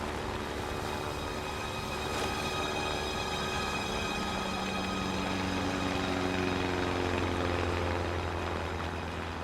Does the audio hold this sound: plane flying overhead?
yes